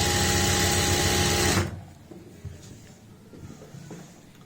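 A sewing machine runs loud and steady for about a second and a half, stitching a dhoti salwar, then stops, leaving faint handling noises and soft room sound.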